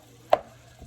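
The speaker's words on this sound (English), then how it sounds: "I'm just going to trim up the fat off of them and cut these up" A knife cuts through chicken breast onto a cutting board with a single crisp, close knock, followed by a much fainter tap.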